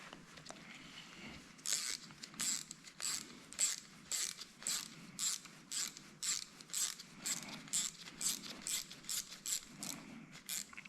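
A ratchet wrench backs out injector bolts on a 7.3 Powerstroke engine, making rapid clicking bursts in a steady back-and-forth rhythm. The bursts are fairly quiet and close, with short pauses between strokes.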